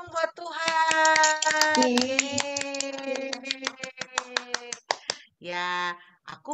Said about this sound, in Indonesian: Beri tepuk tangan dong buat